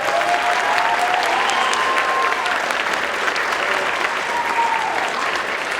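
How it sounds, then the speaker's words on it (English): Audience applause at a middle school band Christmas concert, a steady, dense wash of many hands clapping throughout the room, sustained and fairly loud with a faint tone drifting underneath. "Can we give those people a round of applause, please?"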